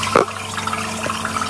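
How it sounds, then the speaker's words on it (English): Water running down the overflow of a non-electric water pump, a steady close trickle and splash with a brief louder gush near the start. "you should be able to see the water running in there"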